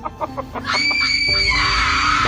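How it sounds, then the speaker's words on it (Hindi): Gulli screaming in the Kamla horror game, a few short choppy cries followed by a loud, sustained high-pitched scream lasting a couple of seconds. "बाहर गुली के चीखने चिल्लाने की आवाज सुनकर सोन कहता है लगता है गुली किसी मुसीबत में आ गया है"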